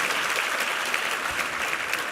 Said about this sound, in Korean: 우리 뉴젠 어린이 뮤찬팀에게 한번 힘찬 격려 박수 부탁합니다